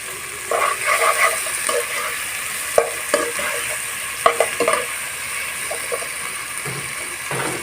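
Ginger garlic paste stirred and fried in a pan for egg dopiaza, a steady sizzle with scraping spoon strokes and a few sharp knocks against the pan, close and clear with no talk.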